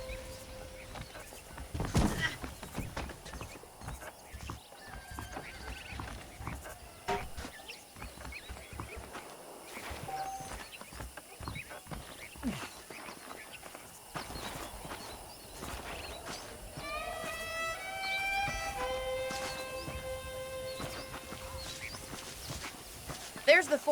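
Horses clip-clop on dirt in Red Dead Redemption, a steady patter of hooves with occasional thuds and a brief whinny, running under game music and ambience with no talk.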